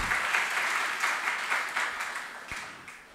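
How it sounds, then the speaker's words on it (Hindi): Listeners at a Jain monk's spiritual discourse break into a burst of applause, continuous many-handed clapping that fades gradually over about three seconds. "और क्यों ताली बजा दी?"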